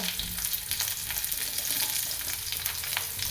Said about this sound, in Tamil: ஒரு ஒன் மினிட் வதக்கினா போதும்